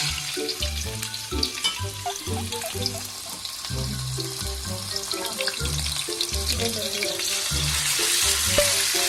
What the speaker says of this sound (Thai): นี่ครับใส่หมูลงไปแล้ว ผัดคลุกให้หมูเริ่มสุกนะครับ